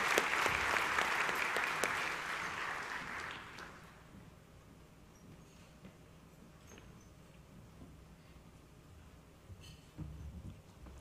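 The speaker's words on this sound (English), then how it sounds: "Let's give these two ladies another round of applause." Warm round of audience applause at a high school hall of fame induction ceremony, steady for about four seconds and then dying away into quiet room tone with a few faint stray sounds.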